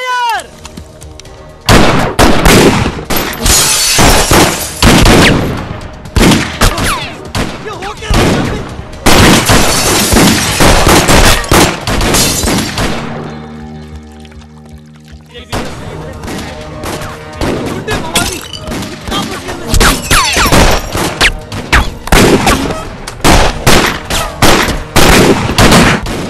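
Gunfire in a Bollywood comedy film scene, loud rapid bursts of shots and volleys in several long stretches, with a short pause and some background music between the barrages.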